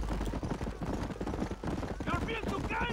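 Horse galloping in Red Dead Redemption, a rapid, steady clip-clop of hooves throughout, close and continuous, with voices talking over it.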